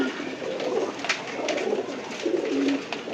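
Thor pigeons coo in soft, low, repeated calls, fairly close by, against a steady background of rustling and faint room noise with no one speaking.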